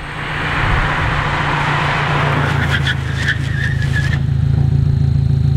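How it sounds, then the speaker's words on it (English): A car with performance brake pads brakes hard from 60 km/h: a loud engine and road roar with tire squeal and rapid pulsing chatter as ABS engages, then a steady low rumble. "you can definitely hear the ABS go on more with these brakes"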